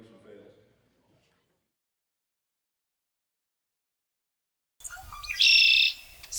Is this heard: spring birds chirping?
yes